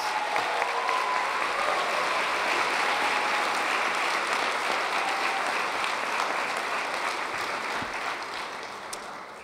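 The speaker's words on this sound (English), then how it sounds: "let's give all of our nominees, our winners, a big round of applause" A banquet-hall crowd at an awards dinner applauds nominees and winners, sustained, even clapping from many hands that holds steady before easing slightly at the end.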